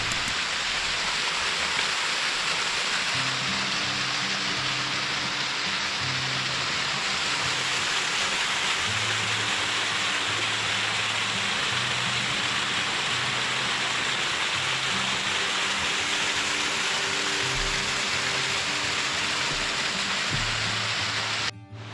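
Fairy Waterfall cascading down a mountainside, a dense, steady rushing roar that holds evenly throughout with no voices, alongside a faint low droning hum.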